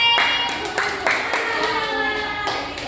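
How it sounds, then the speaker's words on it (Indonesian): A small group claps for a girl named Mei, a few scattered, uneven bursts of hands clapping close by, with a faint tonal hum underneath. "tepuk tangan untuk Mei"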